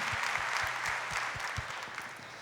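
A church congregation claps together, a steady wash of hands at moderate distance with a soft rhythmic low thump beneath, fairly quiet overall and without talk.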